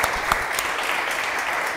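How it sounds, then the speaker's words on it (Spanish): Studio audience at a comedy talk show bursts into brief, energetic applause, a dense close burst of clapping held steady throughout. "Un aplauso, señoras y señores"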